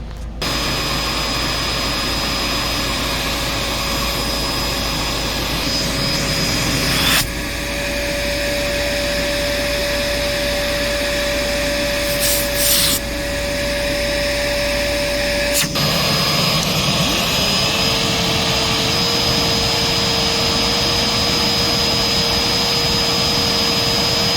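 A Dirt Devil Platinum Force 091200 vacuum cleaner runs continuously during an airflow test, a steady loud motor whine whose pitch shifts as the airflow changes, with brief thumps as attachments are handled.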